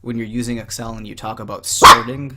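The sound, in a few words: dog barking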